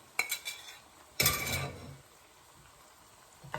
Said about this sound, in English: Now I'm going to put my onions and garlic and ginger back in.